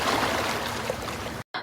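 Waves build in an animated story as a boat is pulled across the water: a dense, continuous wash of rushing, churning water that cuts out briefly near the end and then resumes.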